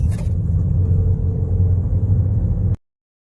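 Low, steady engine rumble and road drone from inside a car driving around town, loud and close, cutting off abruptly after about three seconds.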